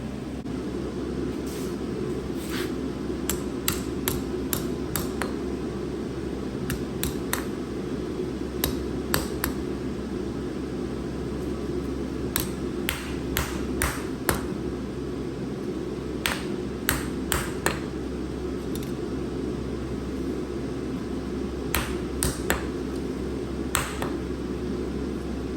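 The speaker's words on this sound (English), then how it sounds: "we're gonna reheat and straighten it out with the wooden mallet" Repeated sharp ringing blows from a wooden mallet on a reheated forged steel twist for chopsticks, struck in irregular bursts of quick knocks over a steady background hum.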